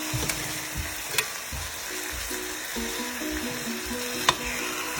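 Wild Alaskan sockeye salmon fillets fry in a pan with a steady, close hiss of sizzling oil. A few sharp pops and crackles break through the even frying noise.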